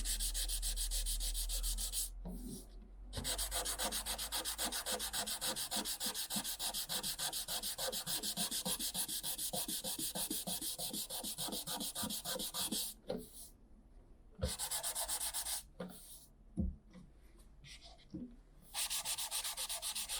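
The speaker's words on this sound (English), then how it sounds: "I'm gonna sand over the edges of the spruce anyway, so kind of blend them together." Sandpaper rubbing steadily over the spruce edges of a handbuilt guitar body, a close continuous abrasive rasp that runs for long stretches and stops briefly a few times.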